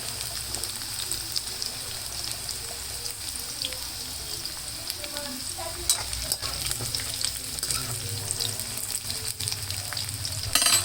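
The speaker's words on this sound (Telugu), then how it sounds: "చూడండి ఫ్రెండ్స్, కాకరకాయలు ఫ్రై అవుతున్నాయి" Bitter gourd pieces fry in a pan for a pickle, giving a steady close sizzle and crackle with scraping stir strokes throughout and no voices.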